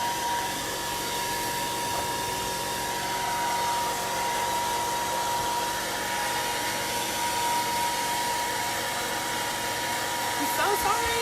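A hair dryer blows steadily and loudly throughout, drying a handmade Christmas berry and vine door hanger, with a constant broadband whoosh and a faint tonal whine.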